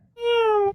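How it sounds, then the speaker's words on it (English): One short, clear, high meow from the Nyan Cat sound effect, loud and isolated, lasting under a second. "Is that a cat? Is there a cat in here?"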